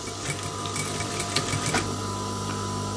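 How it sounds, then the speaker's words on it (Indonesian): Sewing machine stitching the body panels of baggy trousers, a steady fast mechanical whirring rattle running continuously at close range, with no talk over it. "Di sini sama, kita jahit sesuai lebar kampuh."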